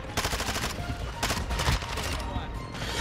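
Game gunfire in Modern Warfare 2 during a Christmas-themed match, dense bursts of rapid shots cutting in and out close up, with a voice talking faintly underneath.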